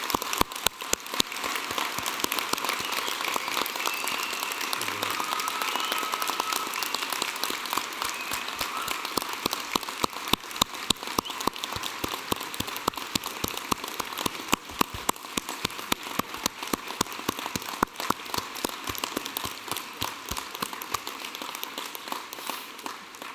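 Audience at a University of Newcastle graduation ceremony in Australia applauds in a large hall, a steady, even patter of many hands clapping that holds for over twenty seconds at moderate volume.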